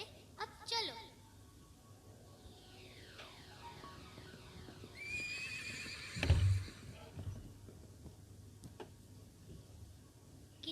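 A flying horse in a children's story neighs, a clear whinny amid soft hoofbeat-like clopping, with a narrator's voice and light music around it.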